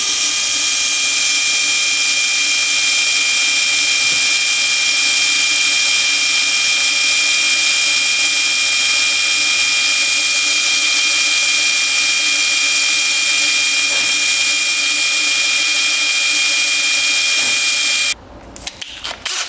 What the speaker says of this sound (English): in order to do that, we've got to drill it and use an easy out.